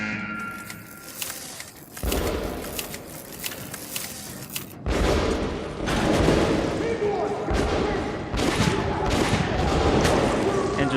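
Combat in the shooter Metro: Last Light, with dense bursts of gunfire and heavy thuds in a combat challenge against enemies, loud and busy throughout, and a voice talking over the fighting.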